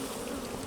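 Honey bees from a hive with frames being handled during a beekeeping inspection give a dense, continuous buzz, close and steady.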